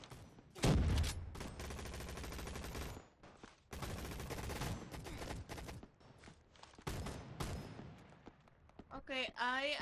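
Bursts of rapid automatic gunfire and single shots crackle through a Roblox Arsenal gunfight, loud and dense in clusters with brief gaps, ending with a few scattered shots.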